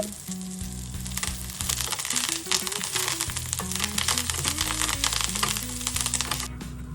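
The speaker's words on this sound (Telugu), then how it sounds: "వీటన్నిటినీ కూడా మనము లో ఫ్లేమ్లోనే ఫ్రై చేసుకోవాలి" Curry leaves and spices frying in oil over a low flame, a steady close sizzle and crackle with stirring, while a sustained tonal background sound runs underneath throughout.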